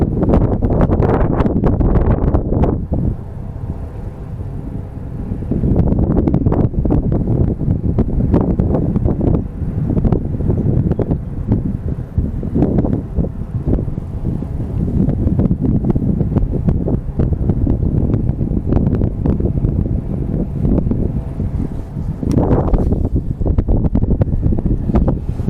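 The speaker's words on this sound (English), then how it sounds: "That wind is something else." Strong wind gusts across a lake during a bass-fishing outing, roaring and buffeting the microphone with loud, rumbling noise that rises and falls in waves throughout, with no talk.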